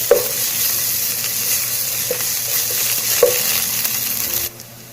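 Green chilies and mint leaves sautéing in a hot pan: a loud, dense sizzle with occasional spoon taps against the pan, cutting off abruptly near the end, no talking.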